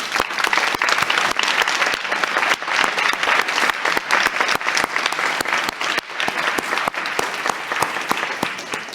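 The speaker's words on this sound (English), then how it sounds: "one more round of applause, please, for all of the students." A mid-sized audience at a university policy-school competition applauds students, with many distinct hand claps forming a lively, sustained round that thins slightly toward the end.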